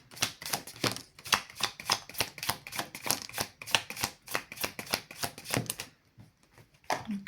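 Tarot cards riffled and shuffled in a rapid, steady run of crisp flicking bursts close by, stopping abruptly near the end with a soft thump as cards are pulled.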